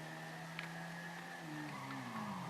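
Engine of a sports car in a video game drones at a steady, quiet pitch and then drops in tone as it shifts or slows, with no talk over it.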